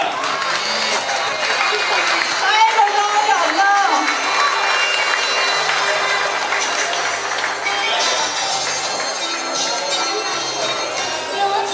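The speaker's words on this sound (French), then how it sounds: "Sous vos applaudissements, messieurs, dames" Sustained crowd applause at an outdoor cacao gathering in French Guiana, a thick wash of clapping mixed with voices and some ringing tones that stays loud and even for about twelve seconds.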